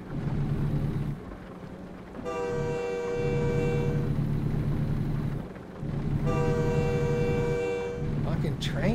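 A train horn in American Truck Simulator sounds two long, loud, steady blasts, each a couple of seconds long with a short gap between, over a continuous low rumble of rolling wheels and engine.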